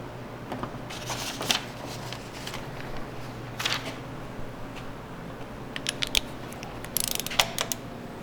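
Quick clicking ratchet bursts as a socket wrench tightens bolts during a Toyota 4.7 V8 timing belt job, close up over a steady low background hum.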